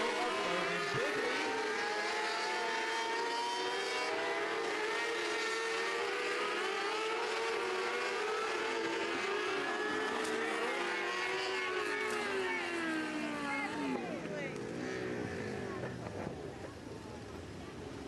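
Race cars roar around a dirt speedway during a memorial feature race, engines layered into a loud, continuous drone that rises and falls in pitch as the pack passes, with a dip in intensity near the end.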